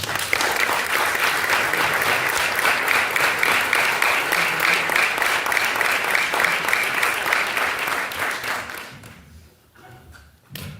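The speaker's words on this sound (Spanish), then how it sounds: "Les vamos a dar las gracias y un aplauso de bienvenida para ellos." Welcoming applause from an audience at a presentation in Nanclares de la Oca: a dense, loud burst of clapping lasting about nine seconds before tapering off, followed by a few scattered thumps.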